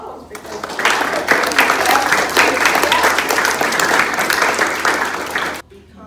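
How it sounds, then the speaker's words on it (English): An audience at a county commission candidate forum claps loudly and steadily for several seconds, then the applause cuts off abruptly near the end. "give them a round of applause"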